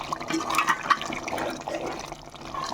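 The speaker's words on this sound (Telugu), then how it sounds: "ఇప్పుడు కూరలు అయితే కొద్దిగా వాటర్ వేసుకుందాం" Water is poured into a cooking pot of beef and gongura curry, a steady splashing, gurgling liquid sound that runs continuously at close range with no talking.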